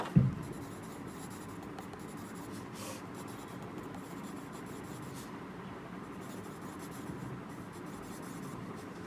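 A pen scratches steadily across paper while a labeled histology diagram of an adenomatoid odontogenic tumour is drawn, a continuous close, soft rubbing with no talking.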